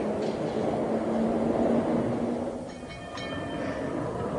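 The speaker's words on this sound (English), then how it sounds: "Some people go by underground." An underground train rumbles past, a steady low roar with a faint squealing tone and some clicking from the rails, at moderate volume and with no voices.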